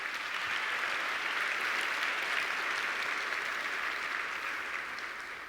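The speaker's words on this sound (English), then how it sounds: "Please give a round of applause to the Daswani Law Group." Steady, even applause fills a large conference hall at a legal technology keynote, honoring a law group, with no talk over it and a slight fade at the end.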